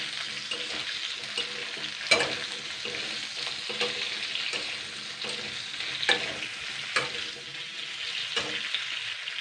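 Sliced potato, bitter gourd and raw mango sizzle in hot oil in a pan while a spatula stirs them, giving a steady frying hiss broken by repeated scraping strokes every second or so.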